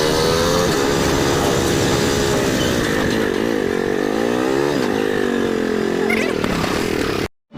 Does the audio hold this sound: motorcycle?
yes